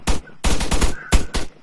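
Gunfire from an AI soldier's weapon in a military video game: several loud, close bursts of rapid automatic fire separated by brief pauses, with no talk.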